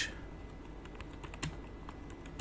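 Quiet, close keystrokes on a computer keyboard as text is typed into a Shopify store customization, soft irregular clicks with a few louder taps and no talking.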